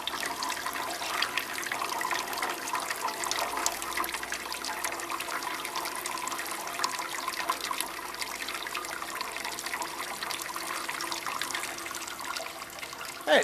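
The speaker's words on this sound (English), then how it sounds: "In case you just need hot water, you can pull that and you see hot water comes out of there." Hot water pouring from the hot water dispenser of a coffee brewer, a steady continuous rushing stream of liquid lasting throughout, close and moderately loud with no talking.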